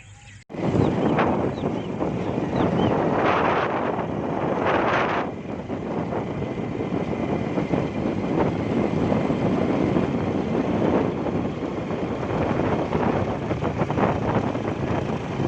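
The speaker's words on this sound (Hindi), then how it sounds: "ये आप देख रहे हैं जी हवा चलनी शुरू हो गई है।" Strong wind roars and buffets the microphone continuously along the road from Rasool Nagar to Wazirabad, Pakistan, a loud rushing gust that starts abruptly and keeps blowing with shifting intensity.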